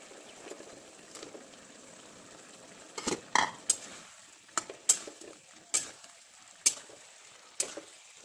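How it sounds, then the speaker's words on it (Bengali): Chilli chicken sauce with fried chicken pakoras simmers and bubbles in a pan, a soft steady sizzle under a series of sharp spoon-against-pan clinks and stirring knocks. "এই যে ফুটছে"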